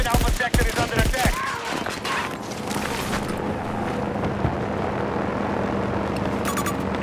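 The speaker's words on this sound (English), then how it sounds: "Enemy helicopter spotted." In the video game Battlefield 2042, sharp bursts of gunfire fade into a steady, droning enemy helicopter rotor thrum that continues to the end, with faint electronic beeps near the close.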